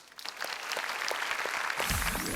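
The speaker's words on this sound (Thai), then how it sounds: "ขอเสียงปรบมือให้กับทุกท่านนะณบนเวทีแห่งนี้ด้วยนะ" A studio audience at a Thai TV singing competition applauds everyone on stage. The clapping starts light, then builds into a steady broadband wash that grows louder toward the end.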